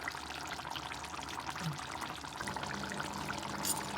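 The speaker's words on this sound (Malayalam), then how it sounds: "അതിൻ്റെ മുകളിലോട്ട് കുറച്ച് നാടൻ വെളിച്ചെണ്ണയും കൂടി ഒഴിക്കുകയാണ് നമ്മൾ" A steady stream of coconut oil poured over a mackerel and mango curry in a pan, a soft continuous gurgling trickle lasting several seconds with no talking.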